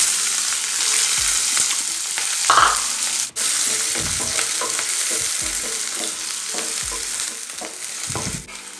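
Small-cut onions frying in oil with bay leaf and fennel for Saidapet-style vada curry, a constant close sizzle with periodic soft scraping stirs and one sharp knock, no talking.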